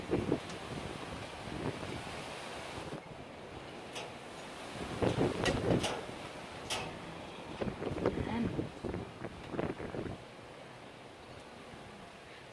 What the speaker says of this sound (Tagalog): Talagang napakalakas ng hangin,